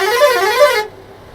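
A loud vehicle horn blares on a passing truck on a ghat road, a sustained two-pulse honk that cuts off abruptly, leaving faint road noise.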